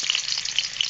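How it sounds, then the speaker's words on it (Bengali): Chopped onion hits hot oil in a wok and sizzles loudly and steadily, a close, dense frying hiss with small crackles throughout and no voices. "তেল গরম হয়ে গেছে, দিয়ে দিচ্ছি পেঁয়াজ কাটা,"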